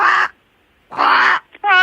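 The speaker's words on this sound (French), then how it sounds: "Ça, c'est la voix d'un corbeau." A crow cawing, played back on a tape recorder held up to a telephone: two harsh, rasping caws separated by a short pause, then a third beginning. All are loud and close, with no talking.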